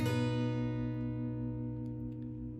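An acoustic or electric guitar strums the bottom four strings of a chord from a song, played as one sustained ringing strum that fades slowly over nearly three seconds, close and alone with no talking.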